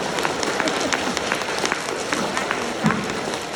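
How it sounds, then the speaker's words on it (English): Applause from an audience after a student's talk about Ruby Bridges and racism, a steady wash of clapping with scattered sharper claps, moderately loud over a brief murmur of voices. "Let's give him a round of applause."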